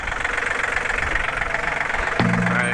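A tractor engine runs steadily, a rough mid-pitched rumble with rhythmic knocking pulses, loud and close, with a sudden shift in tone near the end as it changes load.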